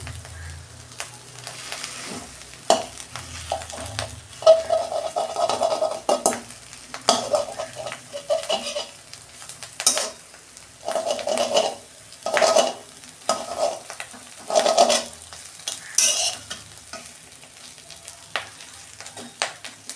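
Fish roe frying in a hot pan at home, a steady sizzle broken by repeated bursts of stirring and scraping, close and fairly loud with no talking.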